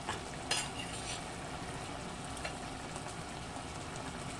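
Tilapia fries in a pan with hot oil, giving a loud, continuous crackling sizzle close to the microphone, with a few brief clinks as the fish goes in.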